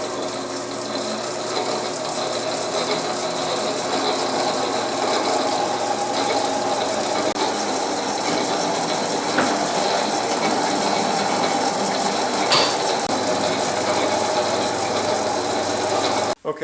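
A Yates American B244 planer's drivetrain runs in high gear, a steady loud whirring and gear clatter that holds without a break for about sixteen seconds, with faint rhythmic ticks and no speech.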